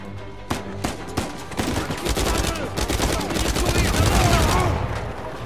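Rapid bursts of gunfire and booming explosions from the PS4 video game Uncharted 4: A Thief's End, loud and dense, with a sustained roar building over the last few seconds.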